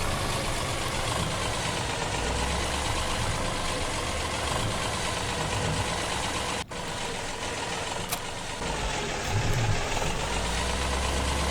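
A tractor engine idles in the video game Farming Simulator 2017 at Sandy Bay, a steady, loud, mid-low rumble running without a break, with a brief dropout partway through.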